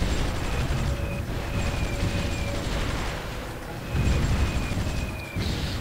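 Bombing in the strategy game Supreme Ruler 2020, a dense rumbling wash of explosions and gunfire heard without talk, swelling around the fourth second.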